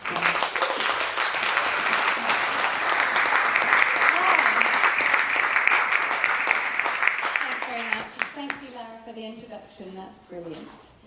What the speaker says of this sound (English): So let's just give her a bit of an applause.